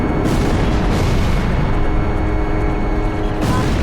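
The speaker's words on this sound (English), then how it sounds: "The captain's missile impacted the target." A missile explosion in the Ace Combat 5 air-combat video game, a loud, dense, rumbling blast that holds at full strength for several seconds.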